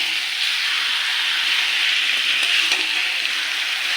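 Spiced meat frying and cooking down in a pot, a steady broadband hiss of sizzling with faint stirring, fairly loud and close with no talking.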